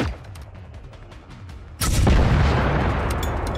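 A loud rocket-launcher blast in Generation Zero erupts partway through, a heavy boom with a long rumbling decay after a quieter stretch of scattered distant gunfire.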